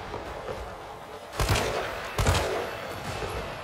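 Bursts of gunfire ring out in Resident Evil 3, two loud, sharp volleys a moment apart over a low background rumble.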